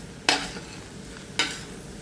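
Offal fries in a pan for pinapaitan. Two short bursts of sizzling and stirring about a second apart stand out over a quiet background hiss, with no voices.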